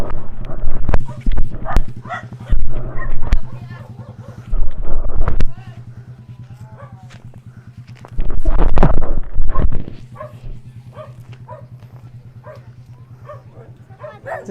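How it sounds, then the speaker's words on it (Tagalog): A dog barks in short, loud bursts near a house, with several clusters of barking spread across a steady background hum while people talk nearby. "Ito yung aso."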